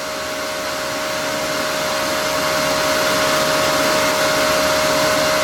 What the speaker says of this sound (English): I put my buffing wheel on the lathe, and I'm going to put the carnauba wax on here